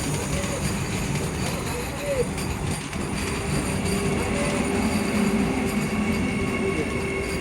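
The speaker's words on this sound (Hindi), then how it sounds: "हावड़ा वंदे भारत ये हम लोग को ओवरटेक किया है दोस्तों" A Vande Bharat express running from NJP to Kolkata passes on the adjacent track, a steady rumble of rolling wheels and carriage noise heard from inside a moving train while someone talks.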